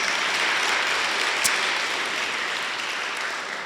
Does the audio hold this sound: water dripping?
no